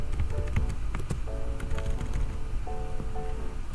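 Typing on a computer keyboard while entering dimensions in AutoCAD, with a quick burst of close, crisp key clicks in uneven rhythm and faint tonal computer beeps in the background.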